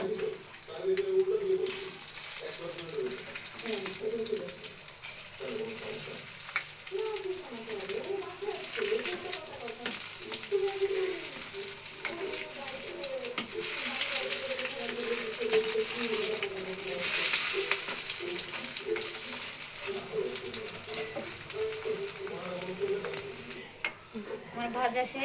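Bottle gourd leaves sizzle on a griddle in a continuous, moderately loud hiss for about twenty-five seconds. Occasional scraping and stirring knocks sit under a voice talking throughout.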